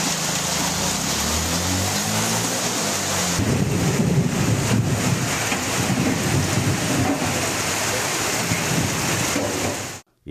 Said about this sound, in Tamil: பகுதிகளில் கனமழை வெளுத்து வாங்கியது.